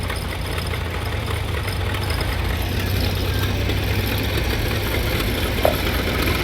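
A vintage grey Ferguson tractor at a parade of vintage tractors idles with a steady, close, unbroken mechanical rumble that holds an even level throughout.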